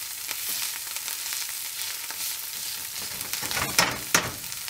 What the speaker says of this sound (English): I'm just gonna break it up a little bit with the back of a slotted spoon